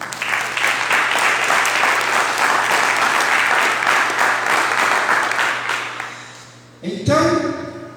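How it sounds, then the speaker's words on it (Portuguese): A church congregation applauds the Lord with loud, dense, sustained clapping that fills the room, then fades out before a brief burst of other sound at the end. "Você pode aplaudir o Senhor?"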